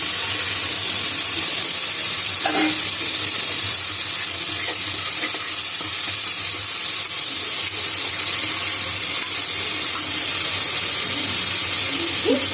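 Tomatoes with mint and coriander sautéing in a pan, a loud, continuous hiss of sizzling and steam that carries steadily throughout, with occasional faint scrapes of stirring and no voices.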